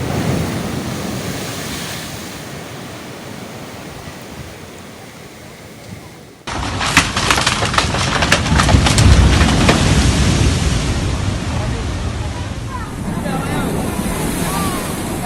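Full-moon tidal waves surge and crash along the Lhokseumawe coast, a continuous loud roar of surf with wind, growing heavier and more turbulent midway.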